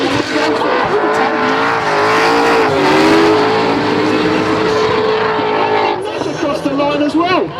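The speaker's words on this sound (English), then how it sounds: "Cunnington starts to unleash 600 horsepower" A 600-horsepower drift car at a British Drift Championship round at 3 Sisters, its engine screaming at high revs with wavering pitch and tire squeal, loud and close, while a commentator talks excitedly over it.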